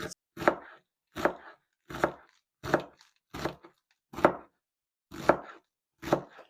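Dill, parsley and green onions for ukha fish soup being chopped on a board: eight crisp, evenly spaced knife strokes with short silences between them, close and clear with no talking.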